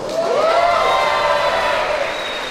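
A wrestling show audience roars and cheers, a loud, close crowd swell with whoops and shouting that rises, holds, and slowly eases off.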